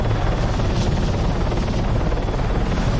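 A helicopter in the Arma 3 game hovers and drifts, a loud, steady rotor thrum and engine drone filling the whole stretch without a break.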